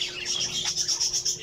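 Seven pet cockatiels in a flight cage chirp and whistle in quick repeated high calls, close and clear, with a faint scratchy rustle underneath.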